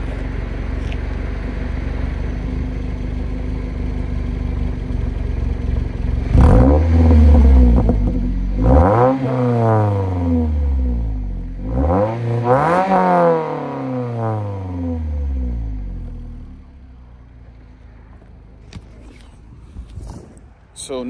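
A Scion tC with a modified exhaust, recorded up close beside the tailpipe, idles and then gets revved in three rising-and-falling sweeps of loud, throaty engine roar before settling back to a low idle.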